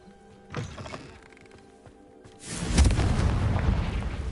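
A Confringo blasting spell goes off in Hogwarts Legacy: a faint thump comes first, then a loud, sudden burst that rolls into a sustained roaring rumble lasting several seconds.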